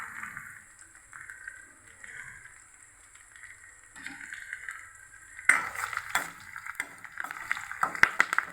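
Green chillies and curry leaves fry in a pan for kakarakaya (bitter gourd) curry, a soft sizzle at first, then louder spattering and stirring with clinks of a utensil from about five seconds on.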